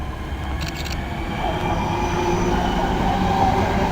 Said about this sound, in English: here is the departure of the Birmingham New Street International local service, 1317 to Birmingham New Street, 323-217